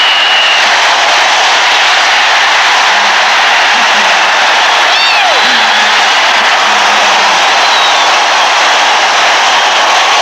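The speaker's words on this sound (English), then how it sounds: "listen to the crowd" Stadium crowd roaring after a touchdown at a 1984 USFL playoff football game between the Tampa Bay Bandits and Birmingham Stallions, a loud sustained wash of cheering noise from a large distant crowd.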